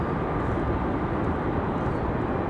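A small general aviation plane takes off at RDU airport, heard as a steady, fairly distant engine roar without any talking.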